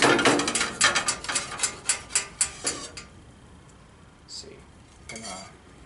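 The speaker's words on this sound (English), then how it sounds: "So grab the spatula, take this guy right off this pizza stone." A metal spatula scrapes and taps against a pizza stone in a BBQ pizza oven while lifting a pizza off: a rapid series of sharp scraping strokes, then a pause and a couple of lighter clinks.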